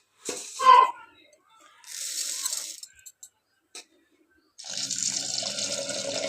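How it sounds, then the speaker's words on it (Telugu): Toor dal is rinsed in a cooker under running water, close splashing bursts separated by quiet gaps, ending in a longer steady stream. "కందిపప్పును మంచిగా కడుక్కోవాలండి"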